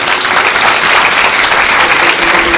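A crowd applauds on the last night of a Hindu yajna festival, Maha Kali Yatra, loud continuous clapping filling the whole stretch without pause.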